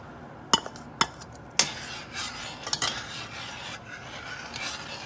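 A spoon or utensil clinks sharply against a pan three times, then stirs and scrapes as cornstarch slurry goes into a simmering sweet chili sauce for red snapper, with soft sizzling throughout.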